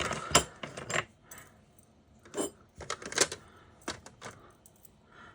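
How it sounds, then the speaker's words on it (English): A pair of scissors falls onto a desk, clattering and rattling in a series of sharp clinks and jangles, some louder hits scattered over several seconds, close by. "My pair of scissors decided to kamikaze on my desk and make a spectacle of themselves."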